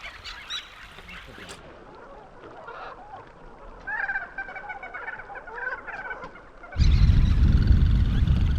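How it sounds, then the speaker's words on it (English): Noisy shorebirds at a beach, honking calls rising in a loose chorus at middle distance, then a burst of loud wind or handling noise near the end. "They were so noisy, those birds. They were just chirping up a storm."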